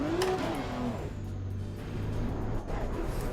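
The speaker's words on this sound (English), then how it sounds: "The engine sound is not that great, not gonna lie." A race car engine in the sim racing game Assetto Corsa Competizione drones loudly and steadily, rising and falling with revs and shifts, with no talking over it.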